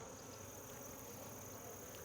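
Honey bees at an open hive during an inspection drone softly and continuously, a faint, steady buzz from many insects heard alone with no speech.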